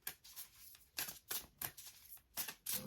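Oracle cards being shuffled by hand in a quiet room, a series of crisp riffling bursts in uneven rhythm, close and moderately soft, with no voice.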